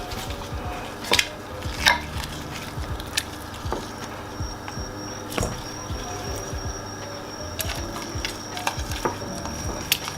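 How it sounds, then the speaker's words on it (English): Baby back rib pieces are dipped into an egg bath in a kitchen, with wet stirring and dabbing, light clinks against a bowl, and occasional louder knocks over a steady sizzling background. "give each little individual piece a little egg bath"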